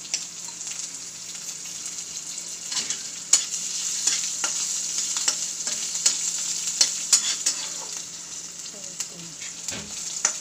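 Cut green chillies and jeera rice ingredients fry in hot oil with a continuous hissing sizzle, broken by scattered scrapes and clicks of a spoon stirring the pan, close and moderately loud, without speech.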